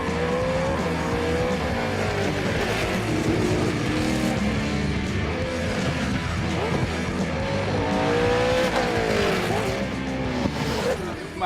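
A V8 touring race car driven hard on a track roars loudly and continuously from inside the cabin, the engine note rising and falling through gear changes, with raised voices partly buried under the noise.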